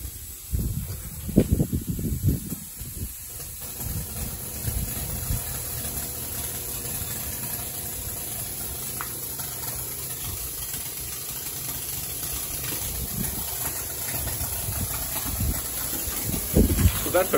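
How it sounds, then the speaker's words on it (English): A gaseous hydrogen/oxygen torch igniter test-fires with a steady, loud rushing hiss that runs throughout, punctuated by rougher bursts near the start and end, with people talking over it. "That is our igniter, and a successful igniter test."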